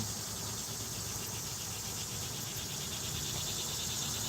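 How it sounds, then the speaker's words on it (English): A dense, steady high-pitched insect drone of cicadas or locusts fills the air continuously without a break. "The locusts or cicadas or whatever they are."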